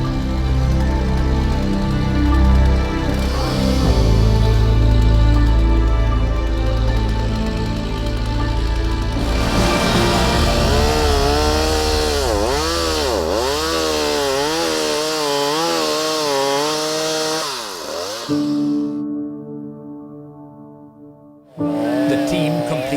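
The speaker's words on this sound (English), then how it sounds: "Trimming it may be loud," Power tool trimming and filing down a rhino's keratin horn, a loud sustained grinding whine with wavering pitch sweeps as the blade bears on the horn, then a short pause and restart.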